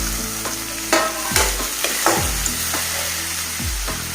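Chopped tomato fries in a hot pan under a steady close sizzle while a spatula scrapes through it, giving several distinct stirring strokes and knocks. Loud, with no talking.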